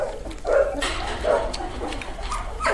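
Puppies about three and a half weeks old give short, high yips and whimpers while eating softened puppy food, several small cries scattered over a faint shuffling background.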